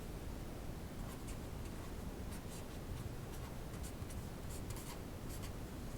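Marker or chalk writing on a board during a physics lesson, a steady scratchy rubbing with short bursts of strokes over a constant hiss, no voices.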